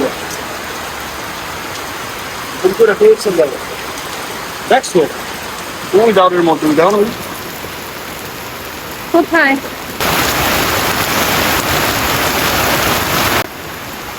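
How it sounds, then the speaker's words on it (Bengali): Heavy rain pours down in a steady broadband hiss that swells louder near the end, while a person talks over it in short bursts. "আল্লাহ দেখেন কি পরিমাণ বৃষ্টি সব ভিজে গেছে"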